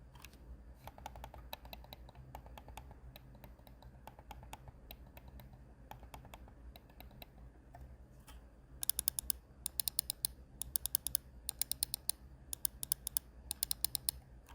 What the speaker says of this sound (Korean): 낮은 클릭음으로 스트레스를 줄여줄 수 있습니다